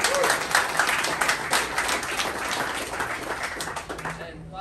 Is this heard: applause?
yes